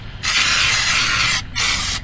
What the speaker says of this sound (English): And spray the arm.